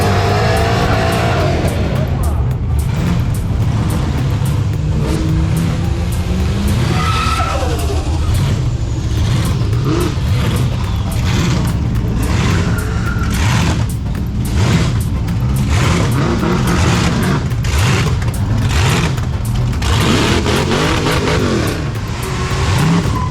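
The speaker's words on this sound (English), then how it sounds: "We want to see the burnouts here." A car doing a burnout at the Summernats car festival, its engine roaring continuously with tyre squeal and skidding throughout, loud and close, with crowd noise and some talk underneath.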